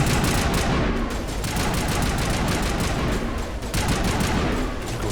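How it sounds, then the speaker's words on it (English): Sustained weapons fire from the video game Mass Effect Legendary Edition: dense, overlapping bursts of shots roll on continuously and loudly, with brief lulls between volleys. "You go sit still when I'm shooting at you."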